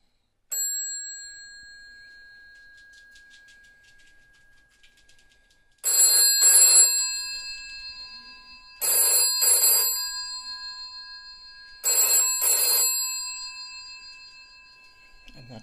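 An old rotary dial telephone, newly connected with a line cord, rings after a brief opening ping: three loud double bursts of a metallic bell, close and alone, with silent gaps between.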